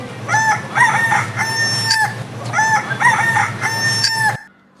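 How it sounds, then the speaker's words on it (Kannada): A rooster crows loudly and close, two long drawn-out calls back to back with clucking in between, ending abruptly. "ಕೋಳಿ ಕೂಗಿದೆ"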